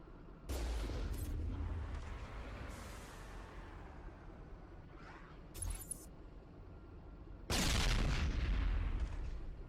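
In the Mass Effect video game, a vehicle cannon fires through a sniper scope with heavy booming blasts and explosions, several loud hits spread apart over a low rumbling engine drone, with no talk.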